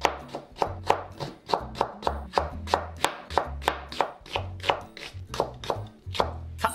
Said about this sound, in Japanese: これをね、全部千切りにしましょう